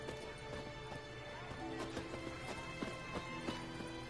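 Horse hooves clip-clop in a steady riding rhythm in The Witcher 3: Blood and Wine on PS5, a string of sharp hoofbeats over a continuous bed of game music and ambience, with no voices.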